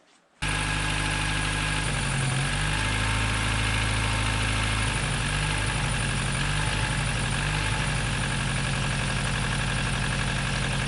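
A 2007 Nissan Versa with a broken motor mount cranks briefly and catches, then settles into a steady, low, humming idle that holds evenly with no voices over it.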